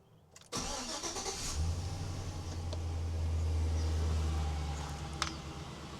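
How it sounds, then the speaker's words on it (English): A truck engine cranks and catches after a brief pause, then settles into a steady low idle with a slight rise in revs, close by. "Let's start the truck."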